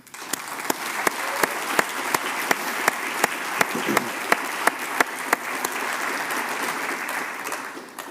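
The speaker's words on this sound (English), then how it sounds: "let's give them a round of applause" Applause for master's degree students at a Cleveland Clinic medical college graduation celebration. Steady crowd clapping runs throughout, with one near clapper's sharp claps cutting through in a regular beat before the sound fades at the end.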